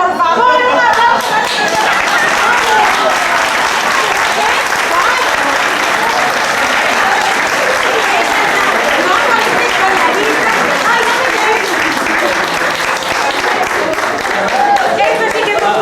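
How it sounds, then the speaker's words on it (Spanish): An audience at a 1993 association social dinner bursts into loud, sustained applause, dense clapping filling the room for about sixteen seconds with crowd noise mixed in. "¡Un aplauso!"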